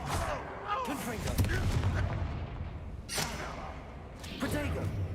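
Confringo blasting spell cast in a Hogwarts Legacy duel: a string of booming magical blasts and whooshes with bright crackling bursts, loud and close amid ongoing combat noise, with speech-like voices mixed in.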